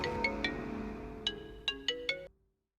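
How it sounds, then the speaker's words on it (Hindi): A phone ringtone in a Hindi-dubbed horror film: short bright chiming beeps in a rising melodic pattern lasting about two seconds, then cutting off into silence. "मैडम, आपका फोन है मैडम।"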